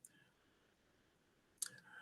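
A single faint, sharp computer mouse click near the end, close by in an otherwise quiet room, with no talk.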